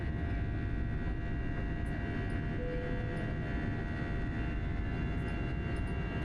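A Philippine Airlines airliner climbs out of Manila after takeoff, heard as a steady, loud cabin roar of engine and airflow with a faint tonal whine and no talking.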